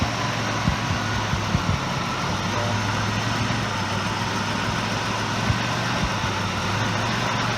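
A car with a 3.8 engine, just repaired after coolant bypass work, idles steadily with a low, even hum and a faint rhythmic tick, close and alone.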